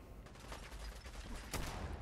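Gunfire in the video game Fallout 4, repeated shots against enemies in suits and ties, with a louder burst near the end over a constant dense game soundscape.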